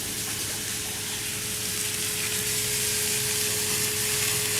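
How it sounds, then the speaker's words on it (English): Water runs steadily from a kitchen tap as hands are washed during burger cooking, a constant rushing hiss with no talk over it. "Let me wash my hands off."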